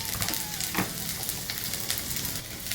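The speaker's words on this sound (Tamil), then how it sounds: "கொஞ்சம் சின்ன வெங்காயம் வாசனைக்கு நல்லா வதக்கிப்போம்" Onions and green chillies sauté in a pan, a close, steady sizzle with light crackles and stirring taps throughout.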